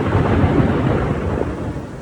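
Loud, rumbling thunder rolls over a dense wash of heavy rain in Karachi, continuous and close.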